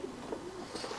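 A female racing pigeon of the Leo Cauters line, from Jan Aarden stock, gives soft, brief cooing murmurs that stay faint and close over about a second.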